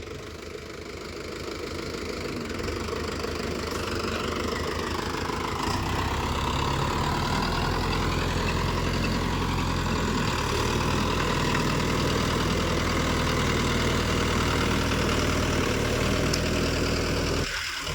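A Mahindra Yuvo tractor ploughing a field gives a steady diesel chug that rises into a loud continuous drone as it pulls the plough, heard close with no talk.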